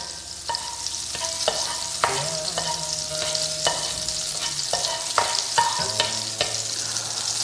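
Butter melting in a hot kadai pan gives off a steady, close sizzle that goes on without a break, with a few light clinks of a stirring utensil on top and no talk.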